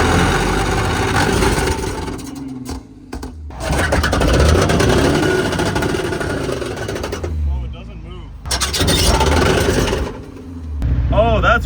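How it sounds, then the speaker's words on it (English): A rough, badly running engine on a car towed with a truck and trailer setup, its diff touching the ground, sputters loudly and unevenly in bursts with pauses between, while people talk over it. "I've never heard a car sound that bad, genuinely"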